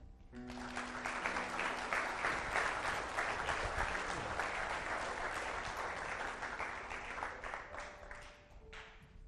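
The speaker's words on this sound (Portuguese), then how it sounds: "Uma salva de palmas." Sustained applause from a crowd, loud and steady throughout, with dense rapid clapping and no talking over it.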